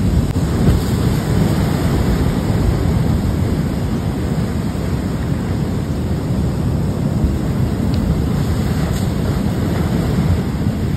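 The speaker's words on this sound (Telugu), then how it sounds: "ఎలా ఉన్నాయి చూడండి అలలు, అలలు తాగడి పెద్ద పెద్ద అలలు వస్తున్నాయి" Large ocean waves crash and surge without pause on Thotlakonda beach near Visakhapatnam, a loud, dense roar of surf with wind buffeting the microphone throughout and no voices.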